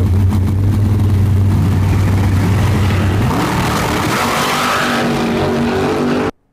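A drag race car launching at the start of a race, a very loud, close engine roar that climbs sharply in pitch partway through, then cuts off abruptly at the end.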